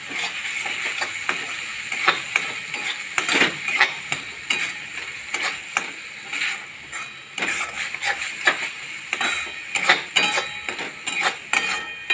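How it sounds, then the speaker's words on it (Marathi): A spoon scraping and clinking in a pan as garam masala is mixed into a Vidarbha-style patodi curry, with irregular stirring knocks over a soft sizzle, close and steady. "अर्धा चम्मच एक चम्मच गरम मसाला घालणार आहे आणि हे चांगलं आपण आता असं मिक्स करून घेणार आहे"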